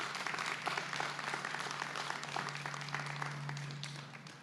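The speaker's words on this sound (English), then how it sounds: "So please give a round of applause for Mr. Donald Courtney." A crowd at an outdoor Veterans Day parade and ceremony applauds steadily, a broad wash of many hands clapping that holds for several seconds and then eases slightly, with a faint low steady hum underneath.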